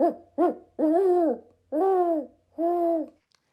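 A voice imitating an owl's hoot calls out in the woods as if answering a real owl: five close, loud, drawn-out hoots, the first two short and the last three longer, with no other talk.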